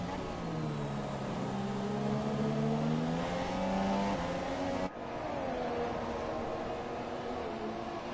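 Formula 1 cars race in the F1 2017 game at Bahrain, engines whining and rising in pitch as they accelerate, with a sharp cut midway as the note drops and climbs again.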